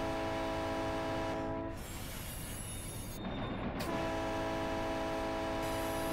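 A BNSF switcher locomotive in the Run8 train simulator, rumbling steadily with a loud sustained horn blast that cuts out briefly in the middle and then resumes, with no talk.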